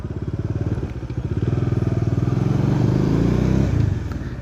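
A driving-school motorcycle rolls along slowly on a training course, its engine giving a steady, low, throbbing chug close by throughout, with no talking.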